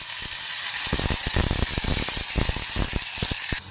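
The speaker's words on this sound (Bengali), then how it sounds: "কড়াইতে তেলটা গরম হয়ে গেছে, এবার আমি ঝিঙের যে খোসা বাটাটা করে রেখেছিলাম সেটাকে দেবো" Ridge gourd peel paste sizzles and crackles in hot oil in a wok, a loud continuous frying hiss with rapid popping spatters throughout, close and without talk.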